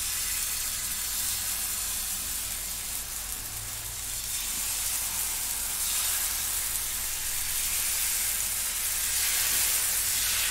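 Rice flour batter for amboli sizzles on a hot griddle, a loud, steady hiss and crackle that runs unbroken throughout.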